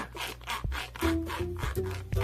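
A toy handsaw rasps back and forth in short, steady strokes close by, each pass a soft scraping rub.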